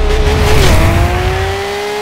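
Racing cars accelerate in the Forza Horizon 2 video game, a loud steady engine drone with a rising whine that shifts pitch partway through, joined by a brief tire squeal, all without talk.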